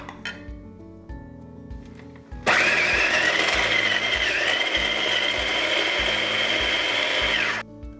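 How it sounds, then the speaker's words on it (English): A food processor runs steadily for about five seconds as it finely minces roughly chopped vegetables, a loud continuous whir that starts abruptly and stops cleanly, with a faint rhythmic ticking underneath. "just roughly chop them and then combine them in food processor"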